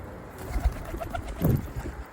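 Pigeons coo softly outdoors in a few low, rolling calls against faint background noise.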